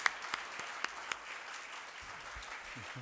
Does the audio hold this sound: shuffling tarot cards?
no